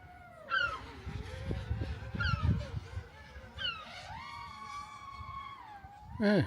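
Several seagulls call out in long, wailing cries and short squawks, fairly close, over low rumbling background noise, on the seafront between Filey and Scarborough.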